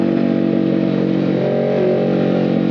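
A sport motorcycle, a Ninja, rides a mountain road between Kennon Road and Marcos Highway, with a steady, loud engine drone and wind rush at an even pace and no talking.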